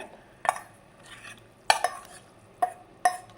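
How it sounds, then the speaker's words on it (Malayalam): Sautéed okra stirred into a boiling tamarind gravy for a Kerala pulinkari: a spoon knocks against the pot in a few sharp, separate clinks over a faint bubbling simmer, with no talk. "വഴറ്റി വെച്ച വെണ്ടക്ക പിന്നെ നന്നായി തിളച്ച ഗ്രേവിയിലോട്ട് ഒന്ന് ചേർത്ത് കൊടുത്തിട്ടുണ്ട്"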